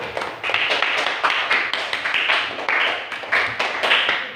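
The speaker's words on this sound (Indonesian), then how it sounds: "Beri aplaus untuk kelompok baru" Elementary school classroom applause for a new student group: a steady run of many hands clapping together, close and fairly loud, rising and falling in uneven waves for several seconds.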